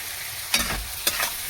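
Vegetables with tomato, chilli, salt and turmeric stir-fried for fried rice, a soft sizzle under two sharp spatula scrapes against the pan about half a second apart, close and without talk.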